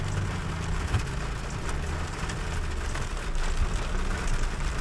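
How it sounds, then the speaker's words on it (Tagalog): Steady rain patters on a moving car over a low engine drone and road hiss, a continuous wash of noise with no voices. "Ayan, umuulan no."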